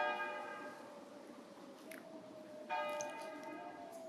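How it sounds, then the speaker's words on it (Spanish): Church bells ring with long sustained tones, one struck again partway through, sounding faint and distant with a light background hiss. "el triste, monótono doblar de las campanas"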